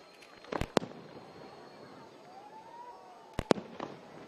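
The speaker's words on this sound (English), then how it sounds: "The fireworks are in the sky" Fireworks bursting at a Formula DRIFT drift racing event at Irwindale, two sharp loud bangs a few seconds apart, each with a short crackling tail, over a murmuring crowd and a faint whistle between.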